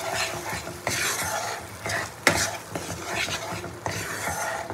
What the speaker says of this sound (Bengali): এবার মশলাটাকে বাটারের সঙ্গে খুব ভালো করে কষিয়ে দিতে হবে।